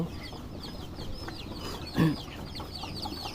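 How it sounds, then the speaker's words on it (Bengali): Three-day-old chicks chirping close by, a dense run of thin, high peeps over low background noise, with one brief louder knock partway through. "এই হলো আমার মুরগির বাচ্চা, 3 দিন বয়স।"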